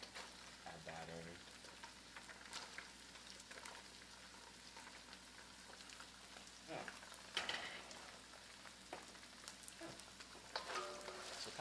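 Fake shrimp and broccoli for pad thai sizzle quietly in a pan, a soft continuous frying hiss with scattered stirring clatters and scrapes.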